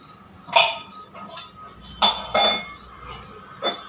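Tea cups clink together as they are handled, a few sharp, close ceramic knocks spaced irregularly over a quiet background.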